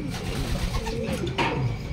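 Soft, low cooing from pigeons nearby, a few murmuring calls over a steady background hum.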